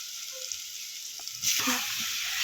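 Chicken pieces going into a pan of frying onions, with onion paste and coriander, for a home-style chicken pulusu curry; a steady hiss swells into a louder, fuller sizzle partway through, with a few faint clinks.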